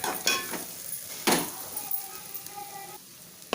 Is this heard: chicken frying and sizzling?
yes